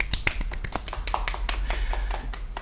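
Applause from a small group welcoming a guest on a bilingual Portuguese-Chinese podcast, a burst of quick, uneven hand claps lasting a few seconds, close by and steady in loudness.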